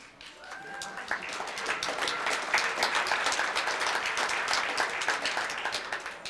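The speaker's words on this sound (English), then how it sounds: "Clapping." Audience clapping at a neighborhood honor roll awards ceremony, starting softly and swelling into full, steady applause with crisp individual claps, sustained to the end without speech.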